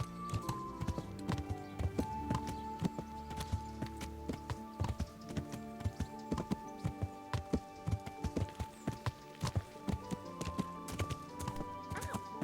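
Horse hooves clip-clop steadily in the medieval game Kingdom Come: Deliverance, a close, continuous run of hoofbeats with an occasional whinny, layered over ambient game sound and soft background music.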